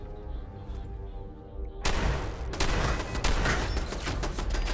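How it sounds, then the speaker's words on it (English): Rapid gunfire bursts from a Mark V turret firing flaming rounds in the video game Fallout 4, a loud, dense fusillade that starts abruptly after a tonal game hum and keeps going to the end. "It's shooting flaming rounds."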